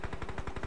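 Rapid gunfire from a shotgun in a video game, about eight sharp, evenly spaced shots rattling out in under a second at moderate loudness.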